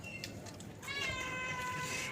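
A cat meows once, a clear drawn-out cry close by over faint background noise.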